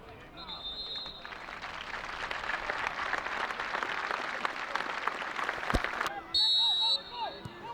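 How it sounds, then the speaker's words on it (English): A football crowd at East Kilbride versus Cove Rangers gives sustained applause in remembrance, a broad steady roar of clapping framed by the referee's whistle blasts at the start and near the end. "both clubs to unite and remember Philip Gill throughout the period of applause which will begin and end on the referee's whistles."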